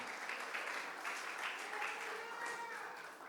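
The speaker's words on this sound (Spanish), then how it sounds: "Dale palmas a la palabra de Dios." A church congregation claps hands in a brief burst of applause, moderately loud and fairly close, with voices faintly mixed in.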